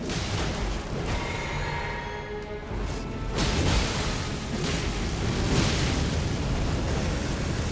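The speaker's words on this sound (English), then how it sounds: "Halfway through, he's going to do an explosion." Boss explosion attack in Elden Ring Shadow of the Erdtree, a sustained roaring blast with rumbling bursts and whooshes, loud and continuous across the span.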